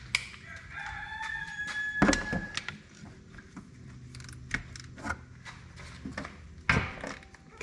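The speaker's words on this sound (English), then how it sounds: "My rooster's gonna chime in and tell you what we're doing" A rooster crows nearby with a long rising call, mixed with scattered knocks and clanks of work going on around it.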